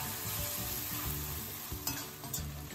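Mashed boiled potatoes sizzle and fry over a slow flame in a pan, a steady close crackle broken by a few scraping stirs of a spatula, with no talking.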